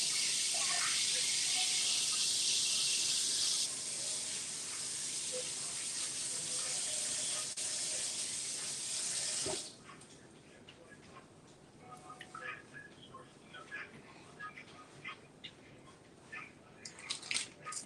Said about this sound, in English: Now I'm going to go rinse these off because they have a dark colored juice that I don't like.